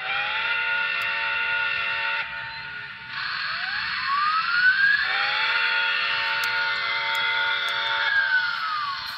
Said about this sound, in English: Let's take a listen to that whistle.